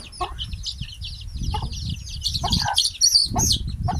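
Chickens with black chicks cluck and peep in short bursts, with sharp high chirps and soft low clucks close by, the calls getting busier toward the end.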